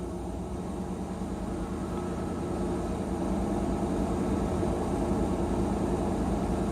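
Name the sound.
car engine idling as the RPM is raised with a scan tool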